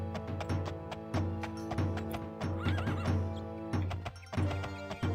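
A horse in the Daggerfall video game whinnies in a long wavering neigh while hooves clip-clop in a steady rhythmic beat, loud and close over a droning game background.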